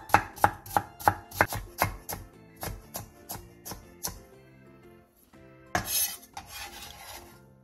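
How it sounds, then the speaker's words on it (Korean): A kitchen knife chops quickly and rhythmically through a carrot on a cutting board, cutting it into long thin strips. Crisp, close taps come in a steady run, pause briefly, then a final scraping clatter follows. "당근 1개를 길게 채 썰어주세요."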